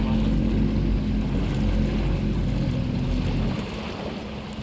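A boat engine idles steadily and close by after being shifted out of reverse, a continuous low rumble with broadband wash that drops slightly in level near the end.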